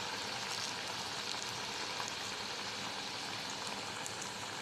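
Chana dal vadas fry in hot oil on a lowered gas flame, giving a steady, even sizzle and bubbling hiss that runs unbroken throughout, close and moderately quiet, with no voices.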